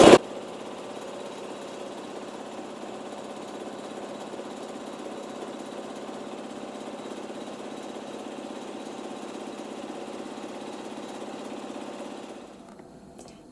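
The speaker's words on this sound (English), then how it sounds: "we're going to let the machine sew some cross stitch" An embroidery machine stitches a cross-stitch pattern with thread, giving a steady, continuous mechanical whir and rapid needle vibration that runs unbroken for about twelve seconds before cutting off near the end.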